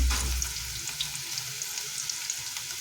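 Sliced onions for crispy onion pakora let go a handful at a time into hot oil, giving a steady close sizzle and bubbling frying hiss with a brief heavier splash at the start, no voices.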